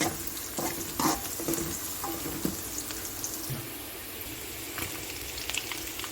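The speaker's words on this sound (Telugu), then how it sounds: "ఆయిల్ అయితే యాడ్ చేస్తున్నాం ఆనియన్స్ అయితే ఫ్రై అయిపోతుందండి" Onions sizzle in hot oil in a pan for a chicken curry, with close, repeated scraping and clattering as they are stirred, plus brief splashy bursts and no talking.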